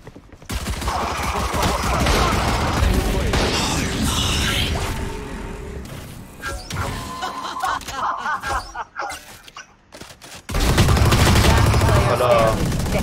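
Video game gunfire crackles in bursts and sustained volleys, with pauses and a heavy final barrage, while players talk and laugh over it.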